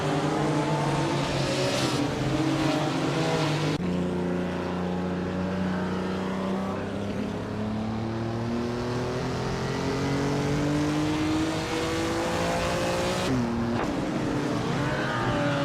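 A 1959 Maserati Tipo 61 Birdcage race car engine roars loudly and steadily, its pitch climbing through the gears with abrupt drops at each upshift, heard close and continuously.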